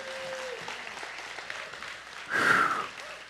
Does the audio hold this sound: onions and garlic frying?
no